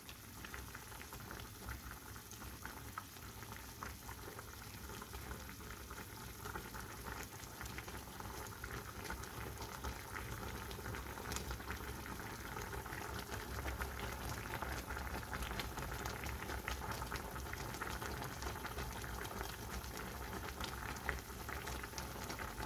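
Gentle, continuous bubbling of stuffed zucchini simmering in a pot, a soft steady wash of small pops, faint and unbroken throughout.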